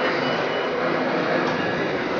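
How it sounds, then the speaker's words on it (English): A train waiting at a station in Naples, bound for Sorrento, gives a steady, loud rumble that holds without a break, with no talk over it. "So here's the train bound for Sorrento."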